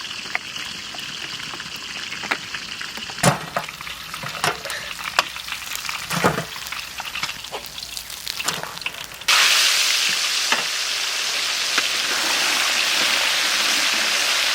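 Mustard oil in a hot kadai, first a scatter of sharp crackles and pops, then a sudden steady hiss of frying that carries on loud and even to the end.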